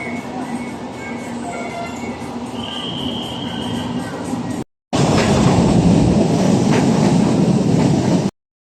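An LRT light-rail train pulls into a station with loud rumbling, rattling wheels and a high metallic squeal. The roar builds and stays heavy close by after a brief cut, with no speech.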